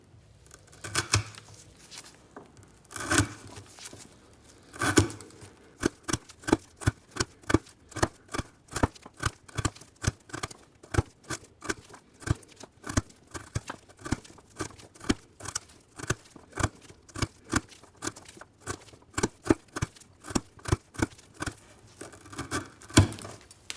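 A BMKT Field Spec EDC1 fixed-blade knife push-cuts through half-inch twisted rope in a long series of crisp, close snips. The cuts start sparse, then come quickly and fairly regularly.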